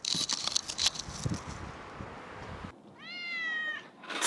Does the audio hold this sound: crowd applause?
no